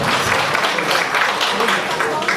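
Audience applause fills a hall at an album launch night in 2021, a steady, dense wash of clapping held at the same level throughout.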